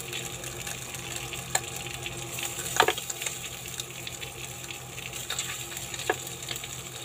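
Beef sizzling and browning in a pan while cooking rice bulgur with beef, a steady low frying hiss punctuated by a few sharp clinks and scrapes of a utensil, recorded close with no talking.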